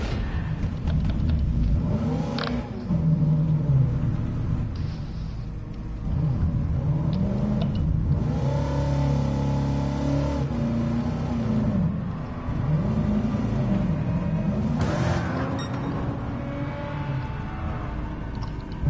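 A Mazda MX-5 ND with a swapped engine in Gran Turismo 7 revs hard through the gears at high speed. The engine note is loud and sustained, with rising whines and brief dips between shifts, and no talk over it.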